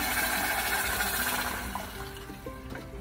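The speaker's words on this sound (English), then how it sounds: "I have the 2 cups of water here, which I'm gonna put in." Two cups of water poured slowly into a pan of hot oil and quinoa for a vegan quinoa and Brussels sprout salad, giving a close, loud hissing sizzle that gradually settles, with no talking.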